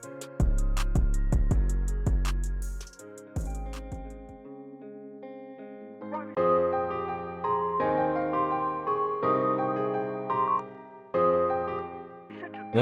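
A bright bell-like synth melody made in FL Studio plays in short plucked notes, with heavy low hits early on and a washy reverberant tail on later phrases.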